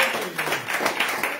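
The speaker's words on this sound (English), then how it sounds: "Let's clap for our sister." Congregation in a church clapping for a sister, a steady wash of many hands with rhythmic accents, moderately loud and sustained throughout.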